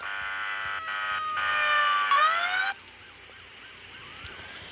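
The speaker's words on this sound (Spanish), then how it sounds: "hoy les voy a mostrar cómo suena la patrulla esta" A police patrol car siren from the video game Emergency Response: Liberty wails in a rising, falling electronic tone. It then switches to a quicker yelping pattern, moderately loud and without talking.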